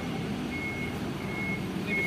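An AKAS IV bus reverses into a parking spot, sounding a thin, repeated electronic beeping at a steady interval over a low engine idle and general background noise.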